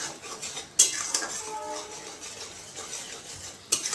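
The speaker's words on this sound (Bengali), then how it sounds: "নুনটা মিশিয়ে দিলাম" A spoon stirs salt into an egg dish in a metal pot, with a soft scraping swirl and two sharp metallic clinks against the pot, one near the start and one near the end.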